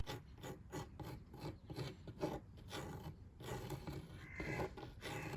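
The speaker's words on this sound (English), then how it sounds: "I'm going to cut a notch out the bottom supports" A hand saw cuts a notch in the bottom of wooden shed supports, rasping in a steady back-and-forth rhythm of repeated scraping strokes, close and fairly quiet.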